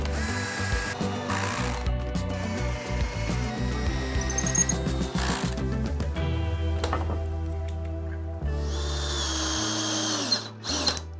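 A power drill drives screws into redwood for a hogwire garden trellis, with repeated whirring bursts of varying pitch, close and fairly loud, separated by short pauses, clicks and handling knocks.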